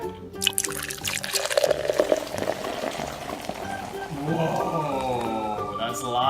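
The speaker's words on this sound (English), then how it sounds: "Let's grab a bottle. Here. And then put the water in." Water is poured into a bottle for a homemade lava lamp experiment with children, a bubbling gurgle with a rising pitch as the bottle fills, while voices talk over it.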